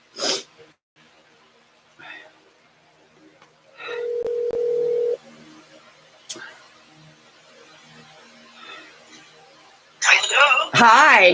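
Telephone dialing produces a single sustained tone in the middle, separated by quiet gaps from a few brief clicks and faint noises, and a loud burst of sound arrives near the end.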